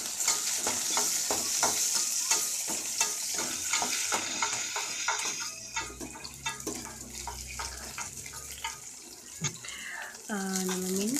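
Chana dal and urad dal frying in hot oil for mint chutney, a steady broadband sizzle with spoon scrapes and stirring clatter, later thinning out beside running tap water and brief voices.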